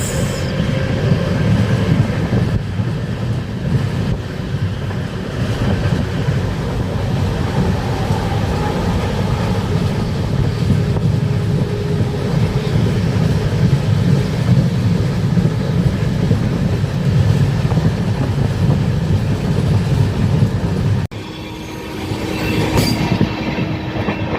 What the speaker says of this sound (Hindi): शताब्दी एक्सप्रेस को ओवरटेक कर दिया काफ़ी देर बाद।